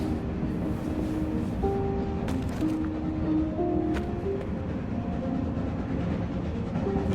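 A train carriage rolling along rails gives a steady, loud rumble with faint metallic squeals and a few clicks, continuous throughout without speech.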